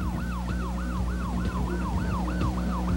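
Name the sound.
fire engine siren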